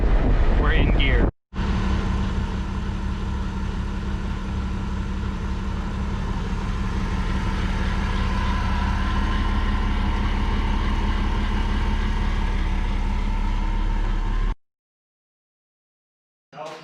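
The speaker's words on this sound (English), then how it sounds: "We're going 50 miles an hour in fifth gear." A red car cruises in fifth gear at about 50 mph, its steady engine drone and road and wind rumble continuing unbroken for about thirteen seconds before cutting off, with brief speech at the start.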